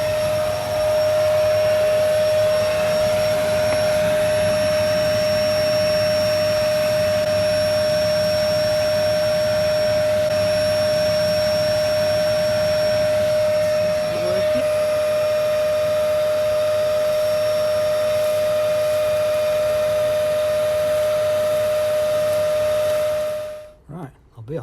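A workshop vacuum pulls air through a homemade garage cyclone dust extractor, a loud, steady whining roar with a sustained high tone that holds for about twenty seconds, then cuts off abruptly at the end.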